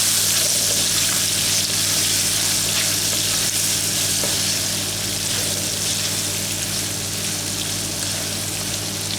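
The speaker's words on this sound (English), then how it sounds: "Now sliding in the onions" Two medium onions sizzle and fry steadily in a pan over a medium gas flame, a continuous close hiss with no voices.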